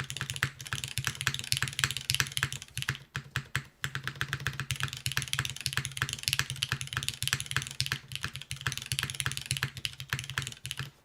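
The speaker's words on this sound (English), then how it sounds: "Yeah, the spacebar is a little dull." Rapid, steady typing on a custom Neo80 mechanical keyboard with Neo stabilizers, including repeated spacebar presses, the clacks dense and close-up with no talking.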